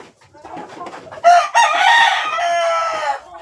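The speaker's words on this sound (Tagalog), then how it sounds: "Ayan yung mga alaga nating pabo guys." Domestic turkeys call loudly and close by, a burst of rapid gobbling and squawking calls overlapping, with no talking.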